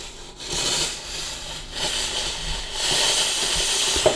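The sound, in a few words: Karcher SC3 Easyfix steam cleaner releasing steam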